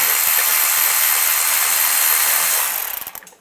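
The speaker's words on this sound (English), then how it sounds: "Just use a 10mm socket." A 10mm socket on a power tool spins a bolt off a 2007-2013 Chevy Silverado timing cover beside the starter, with a steady close whir for about three seconds before it winds down and stops.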